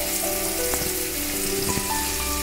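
Spices going into softened tomatoes and onions frying in a pan: a continuous close sizzle with a few sharp clinks and taps over it.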